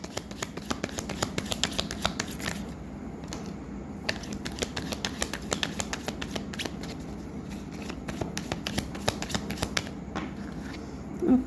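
Tarot cards handled and drawn, with dense, rapid riffling and flicking close up, continuing in bursts over several seconds without speech.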